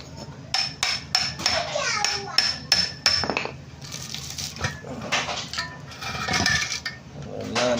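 Sharp metallic hammer strikes on a stuck dual-mass flywheel of a Toyota HiAce ring out in a quick irregular series, some fast and closely spaced, with clanking and a faint murmur of voices between blows.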